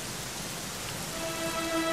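Steady rain falling in the Dragon Quest XI video game, a continuous dense hiss of drops that swells slightly louder toward the end, with faint tonal game music entering, no talk.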